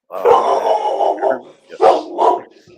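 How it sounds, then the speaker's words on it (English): A dog barks loudly and excitedly nearby in a run of close, overlapping yelps and barks, with voices talking in the same space. "And that dog is ready. He thinks the police are at the door."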